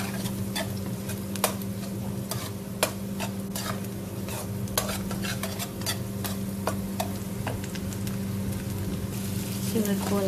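Garlic and onion sauté for pansit pasta in a dense, continuous sizzle, with frequent spatula ticks against the pan and a low steady hum underneath.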